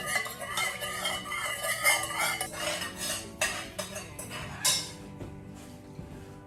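A spoon scrapes and clinks steadily against the side of a container, stirring dye into melted soy wax held warm in a double boiler; the clatter is close and busy, with sharper knocks near the end and no talking.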